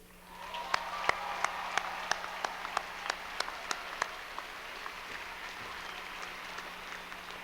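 Audience applause fills a college graduation hall for the class of 1993, a dense wash of clapping heard from a balcony, with a few sharp nearby claps standing out in a steady rhythm before fading into sustained applause.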